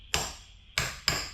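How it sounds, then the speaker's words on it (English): Three sharp metallic hammer strikes, spaced unevenly, each ringing briefly before fading, during a Nissan Patrol GQ chassis strip-down. "We need a hammer."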